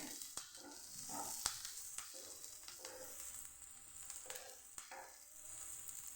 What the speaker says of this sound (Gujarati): તો અહીંયા આપણી ડુંગળી સરસ સતળાવા માંડી છે